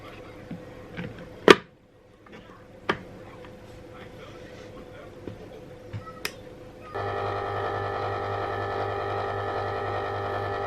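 A few clicks and knocks sound over a quiet room, then an ice cream maker's steady mechanical hum starts up and continues to the end.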